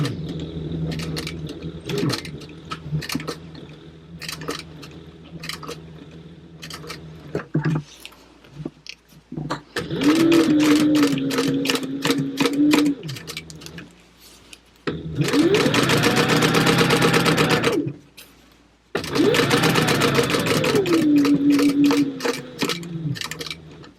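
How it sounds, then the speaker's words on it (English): A sewing machine top stitches fabric at 1/8 inch from the edge with a 4 stitch length, running in several loud, close bursts with short gaps between them and no speech. "we're going to top stitch this at 1/8 of an inch from the edge with a 4 stitch length"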